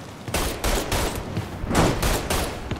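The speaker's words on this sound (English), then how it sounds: "I won't stop shooting!" Gunfire in the crime action game Mafia 3: a quick run of heavy, evenly spaced shots, about six or seven, loud and close, with a roomy, noisy backdrop and no talk.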